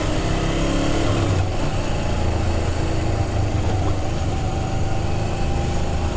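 A motorcycle engine drones steadily while riding, a loud continuous rumble mixed with wind rush and no clear shifts in speed.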